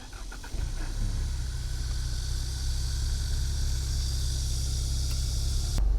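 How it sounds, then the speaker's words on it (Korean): A seventh-generation Ford Mustang 2.3 coupe idles after a remote start, its exhaust in normal mode: a steady, close, low engine rumble that holds an even level throughout, with a slight lift in tone near the end. "원격 시동을 켜게 됐을 때 배기음은 일반 모드로 작동이 되고"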